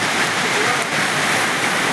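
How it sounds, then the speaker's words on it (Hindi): Heavy rain pours on the Kedarnath mountain trek in Uttarakhand, a dense, loud, unbroken roar of falling water close by. "बेसिकली ये बहुत ज़्यादा तेज़ बारिश हो रही है यहाँ पे"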